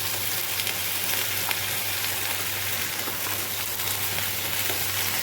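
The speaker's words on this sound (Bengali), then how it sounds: "সবজিটা ভালো করে ভেজে নিই।" Vegetables frying in a pan for khichuri, salted, giving a steady, even sizzle throughout with a constant low hum underneath and no talking.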